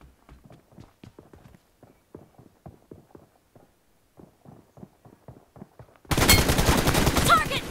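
Loud rapid automatic gunfire from PUBG Mobile bursts in suddenly after a stretch of faint, evenly spaced footstep-like clicks, continuing as a dense rattling volley to the end.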